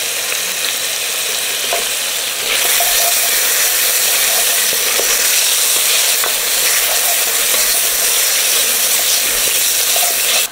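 Tomato paste frying in a pot for beef stew, giving a loud, close, steady sizzle that swells after a stir and holds continuously, with faint scraping underneath and no voices.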